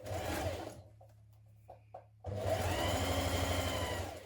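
A sewing machine stitches a dress seam with a 1.5 cm allowance, running in a steady buzzing burst, pausing for a few faint clicks and handling noises, then starting again in a louder, rhythmic run.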